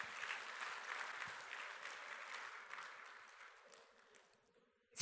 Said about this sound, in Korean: 한번 박수하시기 바랍니다